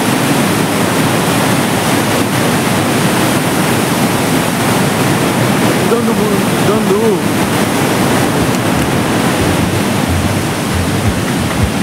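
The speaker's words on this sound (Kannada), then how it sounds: "dangerous and wonderful falls okay powerful falls ಇದು" Powerful waterfall in Munnar, Kerala, a steady, loud broadband roar of rushing water filling the whole stretch without letting up, with a faint voice briefly audible partway through.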